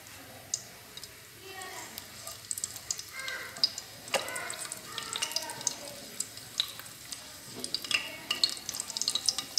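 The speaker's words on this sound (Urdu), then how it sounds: "اب ہم اس میں ڈال دیتے ہیں الائچی، چھوٹی الائچی، اور ساتھ ہی سنترے کے چھلکے ہم نے لیے تھے، اور ہم تھوڑے سے کڑکڑا لیں گے۔" Green cardamom pods and orange peels crackle in hot oil in a wok while sweet jaggery rice is being made: a steady sizzle broken by scattered sharp pops, with faint voice-like sound underneath.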